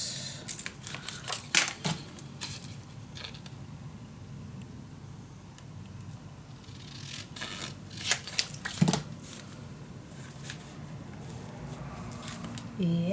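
Scissors cut through patterned paper and tape for a traveling 4-in-1 folio craft project, giving intermittent close snips and crisp paper rustles over a soft, steady background hum.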